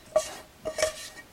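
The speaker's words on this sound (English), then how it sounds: "using my rubber spatula, go ahead and scrape this" A rubber spatula scrapes cooked butter-and-flour roux out of a pan, giving a few short scraping strokes with brief clinks, close and fairly quiet, with no talking.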